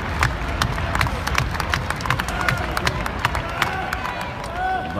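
A wrestling crowd at a Las Vegas NXT match between Shinsuke Nakamura and Bobby Roode pounds on arena seats in rapid, irregular thumps and claps that run throughout, with a commentator talking over the din.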